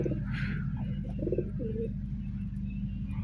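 Pigeons coo softly at a loft, a few faint, low, rolling calls over a steady background hum, with no voices.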